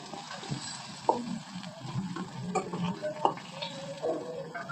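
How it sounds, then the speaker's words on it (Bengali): Fried cauliflower is scooped from a sizzling pan of oil into a bowl, with a soft steady frying hiss broken by a few quiet scrapes and clinks of the utensil. "ফুলকপিটা ভাজা হয়ে গেছে, এবার আমি এটা তুলে নেব একটা বাটির মধ্যে।"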